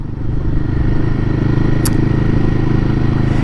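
A Royal Enfield Guerrilla 450 motorcycle engine labours at low revs while riding, a loud, steady, throbbing drone close to the mic with a faint brief clatter partway through.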